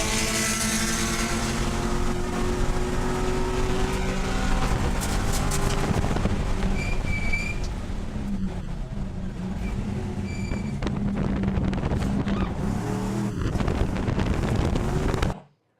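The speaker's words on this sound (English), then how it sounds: "We have a video of you racing a car." A race car runs hard around a track, its engine a loud, continuous buzzing roar with shifting pitch, wind rush over the microphone throughout, cutting off abruptly at the end.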